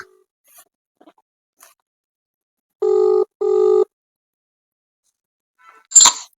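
A telephone rings twice in a steady double burst as a call is placed, loud and close in an otherwise quiet room, followed by a brief rustle or sneeze-like noise.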